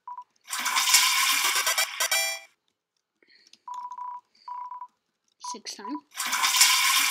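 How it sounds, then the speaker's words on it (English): Toilet flush sound effect from the video game Deltarune, a loud rushing burst repeated twice with short electronic tones in between and a voice speaking briefly. "Just flushing the toilet on purpose."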